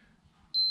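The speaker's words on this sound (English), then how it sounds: "it beeps at me" After a moment of quiet, a single steady electronic beep sounds from a multimeter continuity test, clear and close.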